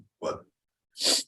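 A person sneezes: a brief sharp breath or catch, a short pause, then one loud explosive sneeze close to the mic.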